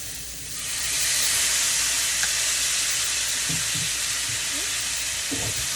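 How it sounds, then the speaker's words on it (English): Squash and zucchini sautéing in a hot pan give a steady, loud sizzling hiss, with a few faint clinks and taps near the end. "we sauteed up some squash and zucchini"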